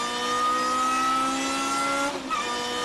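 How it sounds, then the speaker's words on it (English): A Lotus race car engine at the Spa circuit, building power up to fourth gear, with a steady, loud harmonic drone from inside the car that holds, then dips briefly at a shift near the end before picking up again. "build the power up to fourth gear"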